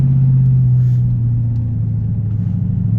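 Dodge V8 exhaust with the mid muffler deleted and Dynomat mini racing mufflers fitted, giving a steady, deep idle rumble that holds close and loud throughout with no revving.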